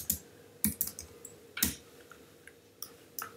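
Typing on a computer keyboard while configuring a VyOS network setup, heard as sparse, separate key clicks with a few quick double taps and pauses between them, fairly close and alone over faint room hiss.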